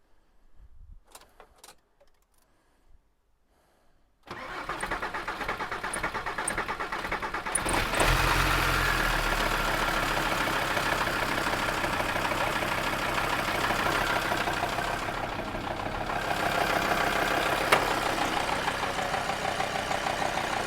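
A Mercedes 2.7 CDI diesel engine from a recovery truck, one that later failed, gives a few faint clicks in near silence, then cranks and catches. It settles into a loud, rough, steady idle that continues to the end.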